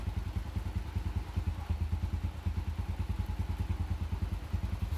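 A carbureted Suzuki Smash 115 motorcycle engine idles close by with a steady, rapid low putter and light mechanical clatter throughout, no voices.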